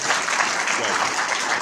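An audience applauds at a convention panel, a dense wash of clapping from many hands, loud and steady throughout the short burst.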